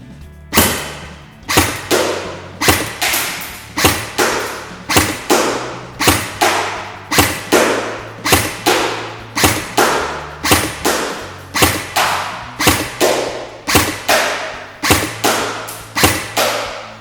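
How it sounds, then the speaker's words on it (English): A VFC HK417 airsoft rifle fires semi-automatic shots at a target, about twenty sharp, loud, evenly spaced cracks with thumping reports, with no talking between them. "Okay, it's pretty much on dead center, so let's fire those shots."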